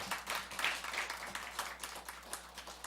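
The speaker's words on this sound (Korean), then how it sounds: "박수로 우리 환영하겠습니다." Church congregation claps in welcome, a soft, faint patter of many hands continuing steadily for a few seconds, distant and low.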